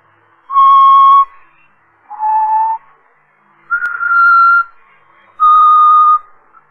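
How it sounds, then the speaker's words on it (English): A person whistles a tune in four clear sustained phrases with pitch changes and short pauses between them, close and loud, with no talk over it. "He's always whistling it."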